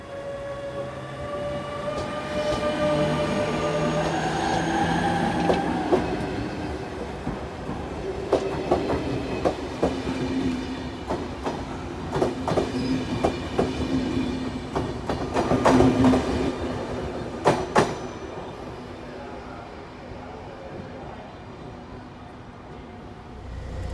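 A Hungarian BZ diesel railcar runs with a steady engine drone and rhythmic clickety-clack of wheels over rail joints, sharp clanks and rattles mid-run, heard from aboard without talk.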